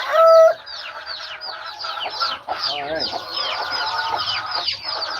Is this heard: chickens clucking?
yes